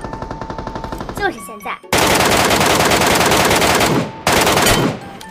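Rapid machine-gun bursts from a shooter video game, near and loud, with sustained automatic fire broken by a brief pause before another burst; a voice speaks briefly early on.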